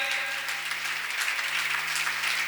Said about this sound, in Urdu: خداوند کے جلال کے لیے بھرپور تالیاں بجائیں۔